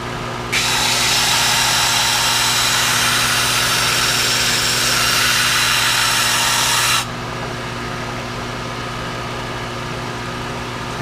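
A power sander airfoils the leading edge of a surfboard fin, a loud, steady whirring grind that runs for about six seconds and then cuts off, leaving a low background hum.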